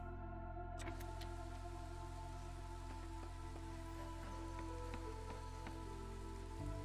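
Drizzle in the city-building game Against the Storm: a steady patter of light rain on surfaces, with scattered soft droplet ticks over a constant low ambient hum and no voices.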